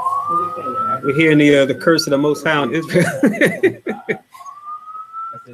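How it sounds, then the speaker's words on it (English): A police-style siren wails in the background, rising and holding a steady tone at the start and returning near the end, while someone speaks over it in the foreground. "You can hear the siren in the background."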